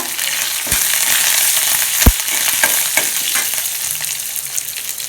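Green chillies, dried red chillies and curry leaves fry in hot oil with a steady broadband sizzle, punctuated by a few sharp pops and spoon clatters against the pan.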